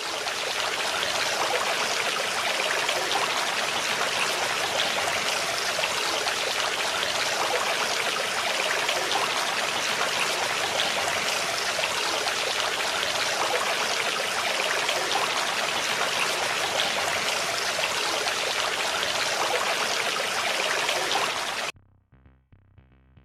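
A famous waterfall roars as a dense, steady rush of falling water, loud and unbroken for about twenty seconds before cutting off abruptly to near silence.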